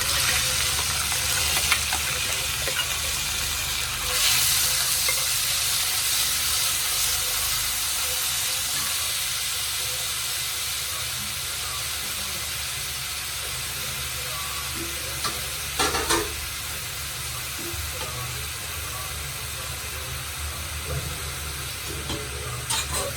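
Sliced onions sizzle steadily in a hot pan for a wheat dosa chutney, a constant bright hiss with occasional scraping stirs, close and continuous, no voices.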